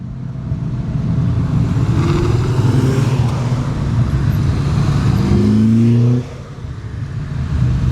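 Cars rev and roar at an Independence Day car meet in the Bahamas, loud engines climbing in pitch close by, ending in a final rising rev before easing back.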